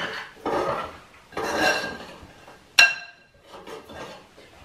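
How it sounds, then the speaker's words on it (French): A spoon stirs eggs in a bowl for a walnut tart, producing several bursts of scraping and clinking against the bowl, one sharp ringing tap in the middle, with no talk. "Avec une cuillère, je mélange."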